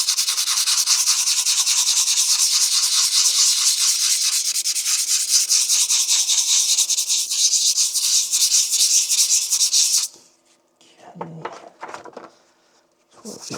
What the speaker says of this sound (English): So let's get some sandpaper now.